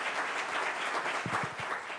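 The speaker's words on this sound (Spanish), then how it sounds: "Recibámoslo con un fuerte aplauso" Audience applause welcoming a presenter at a bank superintendency management report event, a steady, moderately faint patter of many hands clapping, with a brief low murmur near the end.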